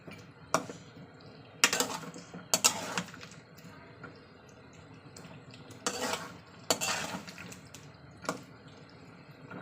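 A live snakehead fish is stir-fried with spices in a pan, giving a quiet sizzle broken by several sharp bursts of spitting, splashing and scraping, close by with no talking.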